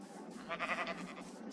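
Sheep in the farming video game Random Seed bleat softly in a brief wavering call, faint and fairly distant, with no talk.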